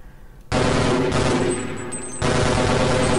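A gun fires in Half-Life, a loud continuous rapid burst of automatic shots that starts abruptly, briefly eases, then resumes at full intensity, close and dominant with no talking.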